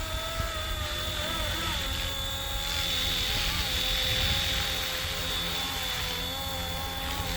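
Flywing FW450 RC helicopter hovering nearby outdoors in some wind, its rotor and motor giving a steady, continuous whine with a slight rise in the middle; a voice talks over it.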